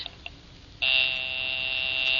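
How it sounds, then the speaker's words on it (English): After a faint click or two, a telephone ringing tone in a 1950 radio broadcast starts abruptly and holds continuously, fairly thin and high-pitched. "I will ring the service department."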